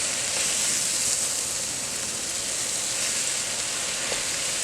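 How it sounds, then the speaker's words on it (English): Kale greens stirred in hot bacon fat in a pot give a steady, dense sizzling hiss that continues evenly throughout, with no talking. "And I'm going to stir this so that all of the greens are now coated with bacon fat."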